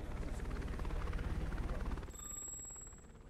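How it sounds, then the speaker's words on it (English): A Metropolis Bureau of Investigation helicopter arrives in a video game, its rotor thumping in a steady rapid pulse that fades as a bright chime rings out near the end. "a Metropolis Bureau of Investigation helicopter has arrived on the site"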